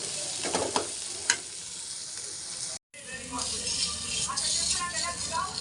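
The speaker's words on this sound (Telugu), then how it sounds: "లైట్గా ఆనియన్స్ వేయించాలి" Onions fry lightly in a little hot oil with a close, steady sizzle and hiss and some stirring clatter, briefly dropping out midway before continuing.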